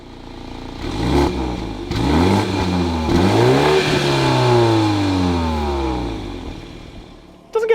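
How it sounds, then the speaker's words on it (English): A close Porsche Macan or BMW X3 SUV engine revs up hard in sport mode, its note rising and falling through several throttle blips with a raspy exhaust, then cuts off with a clunk. "I actually quite like the exhaust sound"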